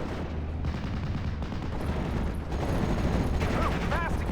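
Sustained gunfire from an MG34 machine gun in the video game Steel Division: Normandy 44, set during a Utah Beach battle: a dense, continuous rattle of shots mixed with battlefield noise, loud and steady throughout.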